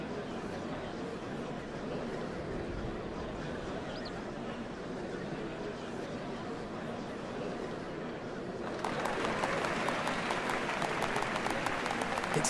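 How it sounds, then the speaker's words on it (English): Crowd applause from a scene in the video game Final Fantasy XIV, a dense steady clatter of many clapping hands that swells louder and brighter partway through, with a faint background bed beneath. "What a crowd!"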